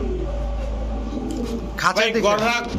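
Big full-grown pigeons, racer, Budapest and Kaldam breeds for sale, coo close by in a loud burst near the end, over steady background noise, with someone talking over them.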